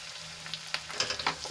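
Capsicum tossed into a pan of softened, frying onions, giving a steady soft sizzle with a few sharp crackles and stirring clicks toward the end, close and fairly quiet.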